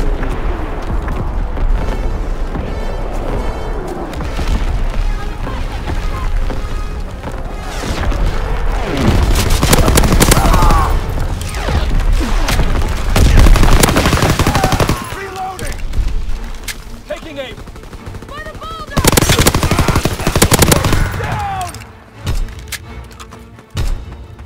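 Artillery strikes and gunfire in the multiplayer video game Call of Duty WWII on the Gibraltar map: loud booming blasts and rattling bursts of rifle and machine-gun fire, with voice callouts heard over the barrage.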